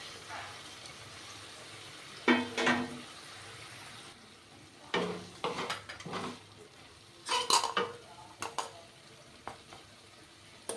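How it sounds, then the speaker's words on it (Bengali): Spice paste made with Kashmiri chilli is stir-fried with pre-fried rice and soaked raisins in a pan. A spatula stirs and scrapes in scattered bursts over a soft sizzle, with a few sharp metallic clinks. No one speaks. "মশলাটা একটু কষে নেব।"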